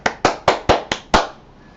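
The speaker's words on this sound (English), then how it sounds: "just clap to speed the energy" Six sharp hand claps ring out at an even, brisk pace in a room during a Pranic Healing session, each crisp and close with a short decay, then silence.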